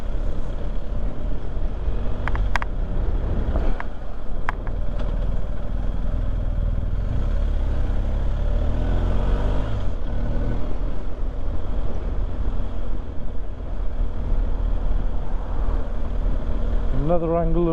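A motorbike engine hums steadily while moving through London West End traffic near Trafalgar Square, with other vehicles passing around it and occasional high tones overhead.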